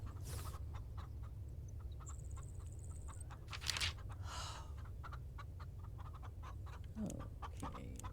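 Chickens in the farming game Farm Together 2 cluck steadily in a long, evenly spaced series, with a short high tone and a few louder squawks breaking in.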